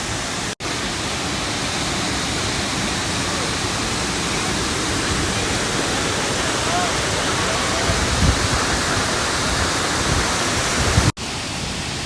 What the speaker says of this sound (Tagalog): From experiencing the amazing Tinoy Ann Falls inside.